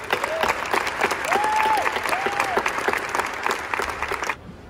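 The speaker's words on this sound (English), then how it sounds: "Please help me welcome to the stage with a warm round of applause, Dr. Marwan El-Zaroni." Sustained applause from an audience, dense steady clapping with a few faint voices, stopping abruptly near the end.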